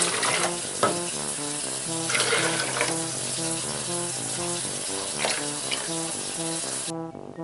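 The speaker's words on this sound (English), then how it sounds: "we're going to measure 6 cups of water into it" Tap water runs steadily into a container for several seconds, a continuous splashing pour with the pitch gradually shifting as it fills, then cuts off near the end.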